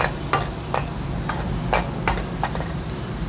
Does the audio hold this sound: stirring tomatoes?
yes